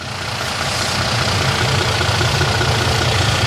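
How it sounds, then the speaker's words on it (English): A DAF MX-11 coach diesel engine idles steadily with a loud, constant low rumble and fine knocking texture, close by and alone. "So the engine here is a big block, as you can see."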